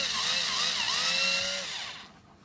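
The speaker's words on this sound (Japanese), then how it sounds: "こういった感じで四隅穴を開けていきます。" Power drill boring holes through the corners of a plastic tub, a loud, steady high whine with shifting pitch for about two seconds before it cuts off.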